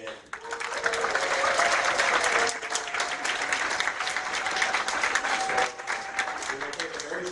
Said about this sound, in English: Let's give another round of applause for our 2026 champion.